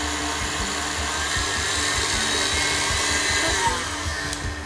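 An electric mixer beats cupcake batter with flour, a steady, fairly loud motor whir that holds on without talk.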